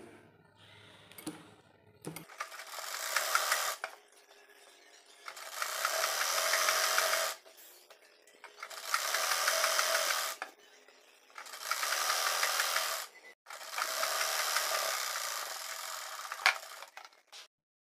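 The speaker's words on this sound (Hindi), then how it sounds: "इस सिलाई को अंदर की साइड में लेते हुए यहाँ पर सीधी सिलाई और कर लेंगे।" Sewing machine stitching a straight seam along the folded waistband casing of a six-panel petticoat, running in four sustained bursts with short pauses between them, close and steady with no talk.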